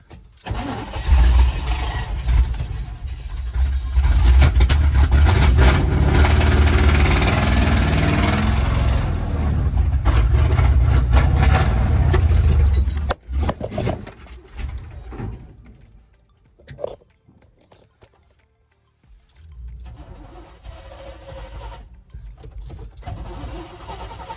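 A 1972 Chevy short-box 4x4 pickup, revived after 20 years and unable to stay running, starts and runs loudly and roughly up close before sputtering and dying, followed by quieter uneven cranking and stalling noises.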